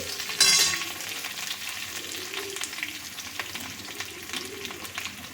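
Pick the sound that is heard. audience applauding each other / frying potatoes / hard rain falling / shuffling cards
frying potatoes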